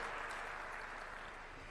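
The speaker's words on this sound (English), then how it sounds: "we clap our hands for her" Audience at the eLearning Africa conference rises and claps for a guest, a faint, even wash of applause heard alone for under two seconds.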